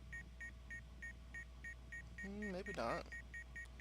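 Rapid, evenly spaced electronic beeps from the Space Hulk: Vengeance of the Blood Angels video game repeat steadily throughout, with a short spoken remark from a person partway through.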